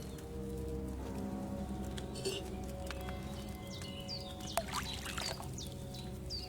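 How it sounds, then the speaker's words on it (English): Water poured into a cauldron in the medieval role-playing game Kingdom Come Deliverance 2, a steady liquid pour running throughout over a low layered hum of background music, with faint clinks and birdlike chirps near the end. "First, you have to pour the right base into the cauldron."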